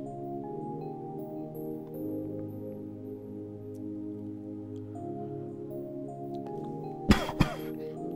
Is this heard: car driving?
no